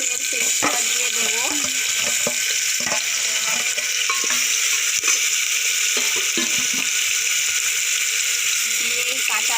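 Chopped onion sizzles in a hot pan with garam masala for a Bengali ghugni, a steady hiss of frying with small clinks and stirring scrapes throughout, while a voice talks over it intermittently.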